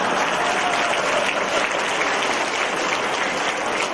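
Steady audience applause at a 2016 talk in Batam, Indonesia: a continuous, even wash of clapping from a crowd, holding at a constant level for the full four seconds without a voice over it.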